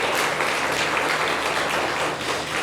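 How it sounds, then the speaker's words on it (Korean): A Korean church congregation in Chile gives dense, sustained applause during Sunday worship to welcome visiting guests; loud and continuous, with no voices over it. "우리 함께 박수로 이렇게 환영해 주시기 바랍니다."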